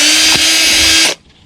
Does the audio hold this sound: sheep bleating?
no